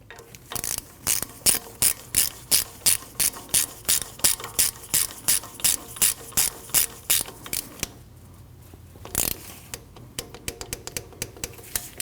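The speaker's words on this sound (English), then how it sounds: "You want to torque that bolt down to 13 foot-pounds." Ratcheting torque wrench tightening a front brake flex hose bolt to 13 foot-pounds on a Nissan NV2500 van: a fast, steady run of sharp clicks for about eight seconds, then a pause and a few lighter clicks, close and alone.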